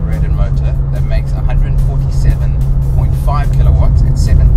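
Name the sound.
Renault Clio Gordini RS 2-litre naturally aspirated engine driving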